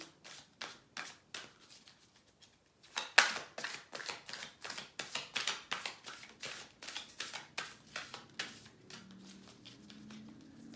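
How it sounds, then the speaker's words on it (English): Tarot cards being shuffled by hand, a steady run of crisp riffling flicks and taps with a brief pause near the start, close and fairly quiet, no talking. "And we're going to shuffle like this."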